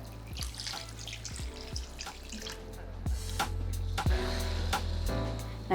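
Water trickles and drips steadily into a pot of Malaysian chicken curry with coconut milk, with occasional small clunks of the vessel, fairly close and continuous with no talking.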